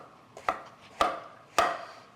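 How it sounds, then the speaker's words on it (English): Three crisp knife chops through king trumpet mushroom stems on a cutting board, evenly spaced about half a second apart, close and fairly quiet with no talking. "These you could tear, but instead I'm going to just cut the bottom off"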